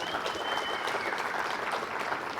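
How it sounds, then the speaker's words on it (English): An audience at the SEMA 2017 Chevrolet Performance unveiling applauds the 2018 Camaro ZL1 Cup race car, producing dense, steady clapping throughout at close range. "Give a round of applause for that car again."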